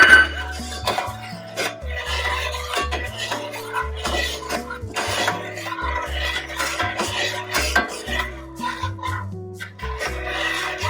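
Biscuit mixture is stirred in a saucepan at close range, a steady run of scraping, clinking utensil-on-pan strokes with faint voices now and then.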